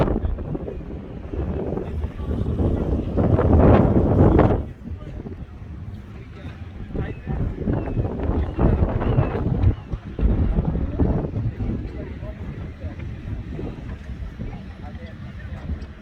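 Strong wind buffets the microphone outdoors at an antique engine and tractor show in Florida, a continuous low roar that swells and eases, with faint voices underneath.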